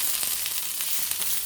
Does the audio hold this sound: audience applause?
no